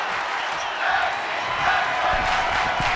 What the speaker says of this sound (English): Hear it, crowd, hear it.